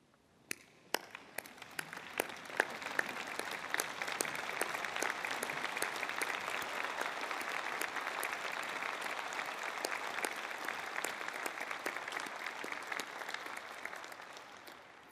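At a university spring convocation, scattered first claps quickly swell into sustained, even applause from a large seated audience, steady and moderately distant for over ten seconds.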